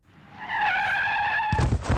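A car's tires squeal in a long, rising skid on a street, loud and close, then break off into sudden heavy thuds and a crash of impact.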